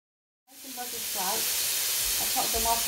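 Boiled, halved vegetables frying in butter in a pan for a Christmas dinner. The sizzle starts abruptly and then carries on as a steady hiss, with faint clinks and brief stirring noises underneath.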